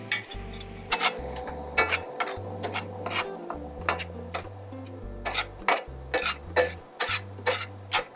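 Ground beef for taco meat browning in a pan on the stove, with repeated scraping and stirring strokes over a steady low sizzle, close and moderately loud, no talking.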